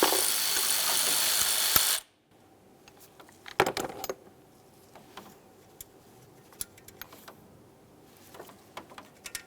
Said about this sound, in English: Now we'll remove our 10mm headed nut.